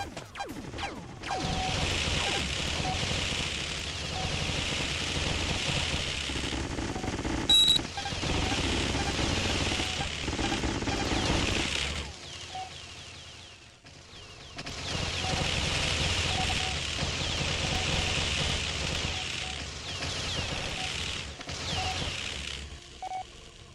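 Laser turrets fire in the video game G-Police, a dense, sustained crackling barrage with a short break midway before it resumes, loud and with no voices.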